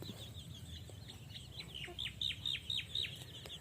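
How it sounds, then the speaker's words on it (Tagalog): Native chickens in a rural Philippine province yard cluck in a quick run of sharp, repeated calls that grow denser toward the end, heard fairly close over low background noise. "And the chicken, yung mga native na manok."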